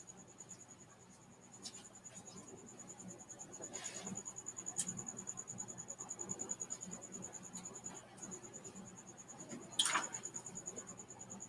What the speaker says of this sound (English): And oh man, that Cricket is really crazy.